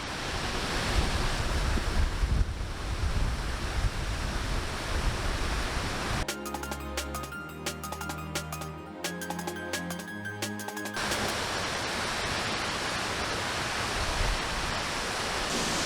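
Broad rushing roar of water from an Icelandic waterfall, its spray and wind noise steady and loud, briefly cut by a few seconds of a different tonal section before the full roar returns.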